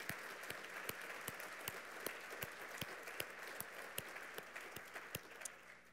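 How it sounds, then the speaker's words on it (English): An audience at an environmental symposium award presentation gives a round of applause, a faint, steady patter of many hands with a few sharper claps standing out. "Can we give Maria a round of applause?"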